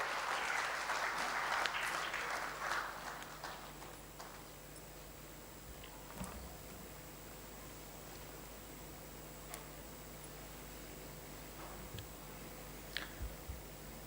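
An audience at an industry-academia conclave applauds an Air Marshal, a burst of clapping that fades after a few seconds, followed by near silence with occasional faint ticks and knocks.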